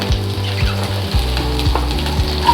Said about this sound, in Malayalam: ഇതിലേക്ക് പച്ചമുളകും സവാളയും ഇട്ട് കൊടുക്കാം